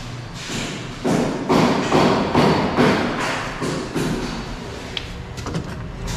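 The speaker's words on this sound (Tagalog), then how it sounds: "So may ginagawa pa sa taas, kaya medyo maingay." Repeated heavy thuds and knocking from construction work upstairs in a house, muffled as if from another floor, thumping in an irregular rhythm without speech.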